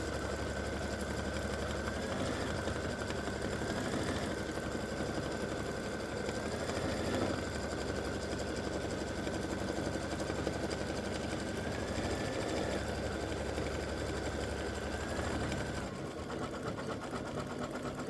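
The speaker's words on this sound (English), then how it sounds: "so it did the satin stitch around the top and the bottom, left this open for the red" A sewing machine runs steadily, stitching a satin stitch around a Christmas stocking appliqué, with a continuous fast mechanical whir and faint periodic pitch shifts throughout, close and without talk.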